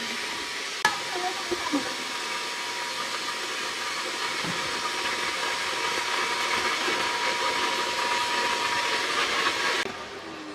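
A vacuum cleaner runs continuously at a steady drone during household cleaning, with a brief knock near the start and the motor cutting off near the end; no talking.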